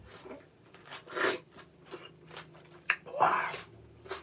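Close-up biting and chewing of a fresh tomato, two louder wet crunchy bites followed by softer mouth sounds and mastication, quiet overall without speech.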